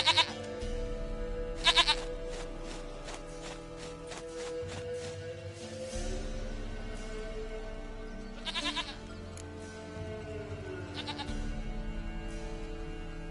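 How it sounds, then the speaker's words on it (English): A goat bleats in a video game, with a few wavering, nasal bleats spaced several seconds apart over a steady musical background. "Goat of mine, dearest, sweetest goat."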